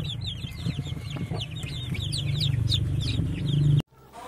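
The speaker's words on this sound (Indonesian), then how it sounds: "Wah, ada ayam kecil." A small toy chicken clucks repeatedly in rapid, close bursts with layered chirpy calls over a steady low hum, cutting off abruptly near the end.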